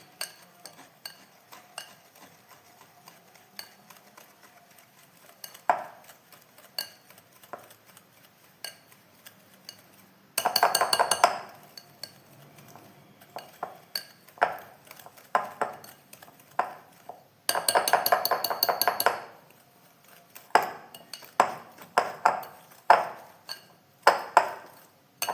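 Coconut biscuit ingredients being mixed with sugar in a bowl, with repeated clinks and scrapes of a utensil against the bowl, coming in two bursts of steady stirring and then scattered taps and knocks, close and fairly loud with no talking.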